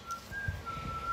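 A thin, steady whistle holds one high note, faint and eerie, broken by a couple of brief gaps, over a low background hum.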